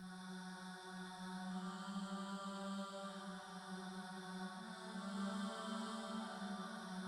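A sustained synthetic choir pad from the Firelight bank in FL Studio, drenched in reverb, holding soft layered vocal tones that swell gently and stay quiet, smooth and unbroken.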